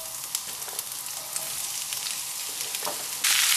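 Chopped vegetables for Swedish brunkål sizzle in a cast iron pan, a steady crackling fry with faint stirring scrapes, and the sizzle grows louder near the end.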